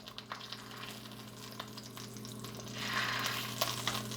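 Bacon frying in a pan, a steady soft sizzle with scattered crackles and pops, a brief scrape and louder burst of sizzling near the end, close and fairly quiet with no voices.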